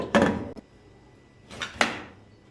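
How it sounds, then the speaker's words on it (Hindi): Two muffled clunks a second apart, then a pair of sharper knocks as a pressure cooker lid is set down and locked into place while making chicken curry, close by with no talk. "और कुकर प्रेशर का जो ढकना है वो बंद कर देंगे"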